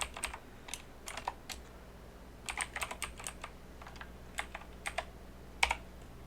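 Rapid clicks of keys on a computer keyboard, typed in short bursts with brief pauses, close and fairly quiet in a still room, with no one talking.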